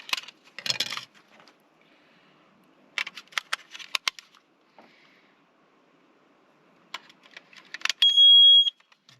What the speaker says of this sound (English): Put our batteries in our carbon monoxide detector.